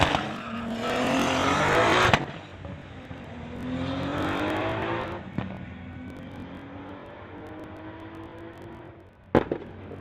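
A Volkswagen street-legal drag car launching and accelerating down a drag strip, its engine rising in pitch through several gear changes with sharp pops between shifts, loud and close before fading into the distance.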